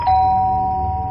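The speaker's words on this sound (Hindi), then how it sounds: "डोरबेल बजी।" A doorbell rings once in a house, a single sustained electronic chime tone that holds steady and clear over a low background hum, with no voices.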